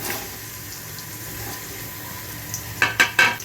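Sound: onion and green chili frying in hot oil

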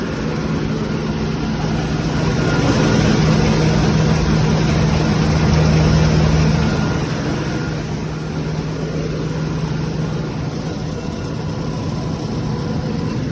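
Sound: John Deere 1158 combine harvester engine idling in place

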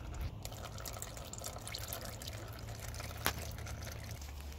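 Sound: transmission oil draining and dripping

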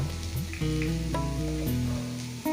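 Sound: potatoes frying in a pan

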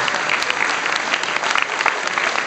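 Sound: audience applause

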